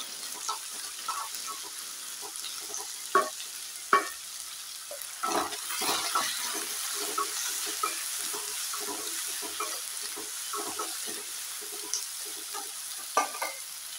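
Onions and ingredients softening in hot fat in a pan for a Kerala chicken dish, with a low steady sizzle broken by scattered clinks and scrapes of stirring over fourteen seconds.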